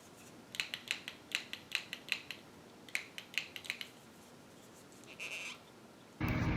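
Rapid clicking pumps of a makeup setting spray bottle sound in quick bursts, several in a row with short pauses, faint and close, then a brief hiss.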